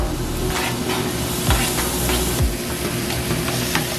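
Onion fries in oil in a heated pan, a dense close sizzle with sputtering crackles and a few scraping stirs, steady across the whole stretch.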